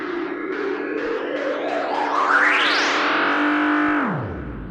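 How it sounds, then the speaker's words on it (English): A delay effect with heavy feedback repeats a sound while its pitch sweeps upward, then holds, then dives down as the delay time changes, smeared and echoing. "crank the feedback so it never actually goes silent, and then play the delay time"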